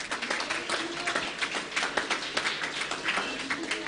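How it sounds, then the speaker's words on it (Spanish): A church congregation applauding together, a dense, steady wash of many hands clapping at moderate distance, filling the room without a break. "Un aplauso al Señor."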